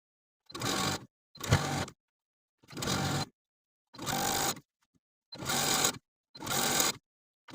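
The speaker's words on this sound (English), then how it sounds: "I'm going to take this to my sewing machine" Sewing machine edge stitching a folded fabric hem, six or seven short whirring runs of stitching, each about half a second long, with brief silent gaps between them, close and clear.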